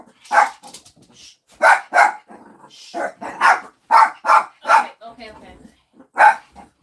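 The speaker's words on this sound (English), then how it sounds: "For the barking of the dogs." Dogs bark in short bursts at a 1977 Royals at Tigers baseball game broadcast, the barks coming loud and close with a voice speaking briefly between them.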